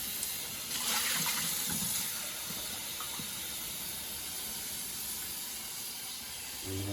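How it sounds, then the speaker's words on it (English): Running tap water pours into a bowl to cool freshly boiled eggs, a steady close hiss and splash that swells briefly near the start, then settles into a constant flow. "And I'm gonna fill it up with water."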